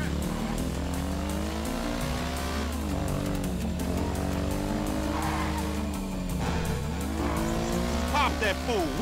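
Engine and tire noise from a motorbike stunt sequence in the video game GTA 5, with steady revving tones that rise and fall and tire squeals near the end, under continuous game audio.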